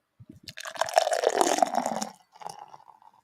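Shiner TexHex IPA beer being poured into a glass with a little spilling, a steady liquid gush that cuts off before a short trickle.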